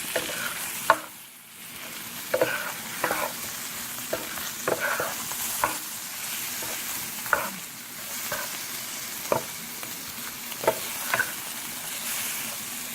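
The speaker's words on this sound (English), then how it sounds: "Keep turning the shrimp so it gets seasoned on both sides." Shrimp frying in a pan with coriander powder for prawns in coconut milk, making a steady close sizzle broken by regular scraping strokes as they are stirred and tossed, with no voices.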